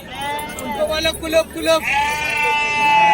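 Sheep bleat at a livestock market in Kashti, with several wavering calls rising over crowd murmur and someone talking nearby.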